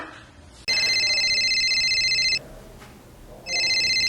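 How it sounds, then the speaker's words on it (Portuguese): A telephone rings with a loud, steady electronic trill in two bursts separated by a short pause, heard up close and alone, with no one speaking over it. "meu telefone tá tocando"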